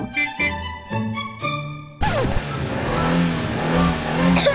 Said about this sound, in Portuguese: Vamos no meu carro!